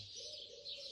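Distant birds twitter continuously at low volume in the afternoon, forming a thin, even background chorus with no voices.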